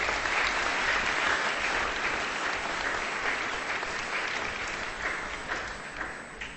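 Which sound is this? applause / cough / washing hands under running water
applause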